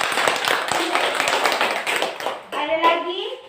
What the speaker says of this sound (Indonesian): Tepuk tangan dulu untuk Melania.